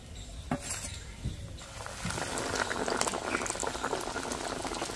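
Chicken cutlets frying in oil over low heat, a bubbling, crackling sizzle that starts moderate and grows fuller and louder partway through, with a few faint clinks and no speech.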